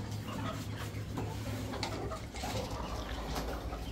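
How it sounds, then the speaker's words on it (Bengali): Pigeons coo softly inside a poultry farm house, mixed with rustling and a low steady hum, a continuous murmur with no clear single call standing out. "এগুলো সব কবুতর"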